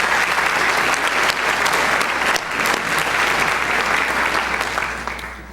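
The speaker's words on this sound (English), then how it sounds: "How about one last round of applause for Mr." A school awards-night audience gives a loud, full round of applause for the outgoing principal, a continuous roar of many hands that holds steady and fades slightly at the close.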